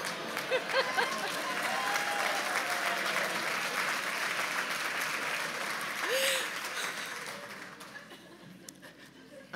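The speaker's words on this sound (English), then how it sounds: "I didn't know that would get applause." Audience applause fills a talk venue, mixed with scattered chuckles and laughter, holding steady for several seconds before thinning out into isolated claps toward the end.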